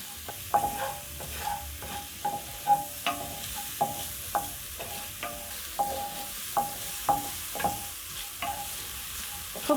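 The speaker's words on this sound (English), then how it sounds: "Just a tiny little bit of oil for frying my onions." Two medium onions fry in a tiny bit of oil, a soft sizzle broken by regular scraping stirs roughly every half second, close and steady with no talk.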